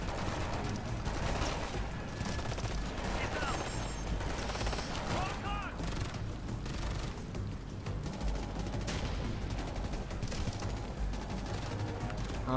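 Gunfire from the Ghost Recon Future Soldier video game, dense bursts and steady shooting mixed with game sounds running the whole time at moderate level, with voices heard faintly.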